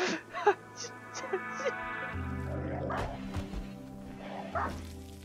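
Dog barks and whimpers from a RimWorld colony game, several yips and barks scattered over steady game music, moderately loud.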